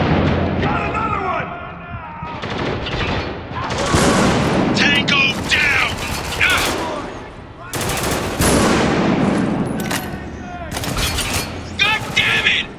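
Heavy gunfire in the war shooter Spec Ops: The Line, dense bursts of automatic fire and loud booms crowding the scene close up, with someone shouting over the chaos.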